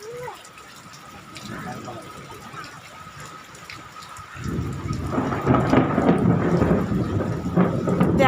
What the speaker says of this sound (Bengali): দেখো বন্ধুরা কিরকম মেঘ ডাকছে।